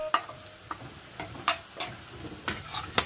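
Ground cumin, garam masala and turmeric fry in a pan for egg curry, a soft sizzle broken by sharp, irregular clicks and scrapes of a spoon stirring against the metal, close and clear with no talking.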